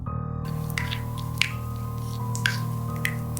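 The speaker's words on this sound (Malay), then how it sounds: "Aku terdengar bunyi air menitis" Water dripping from a leaking bathroom pipe, a few sharp separate drops falling over a steady low hum in a dark, eerie setting.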